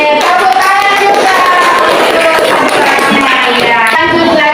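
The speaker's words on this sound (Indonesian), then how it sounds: "Oke, tepuk tangan juga." A classroom group claps for a pair of students standing up, giving a loud, dense round of hand-clapping that carries evenly from start to finish.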